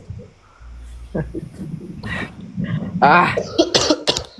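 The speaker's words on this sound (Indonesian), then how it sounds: "gue batuk-batuk nih" Several harsh, close coughs in quick succession, mixed with throat-clearing and breathy vocal sounds.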